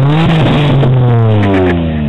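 Exhaust of a twin-turbo Nissan 300ZX revving up loud and close, the engine note climbing and then easing off in one sustained pull.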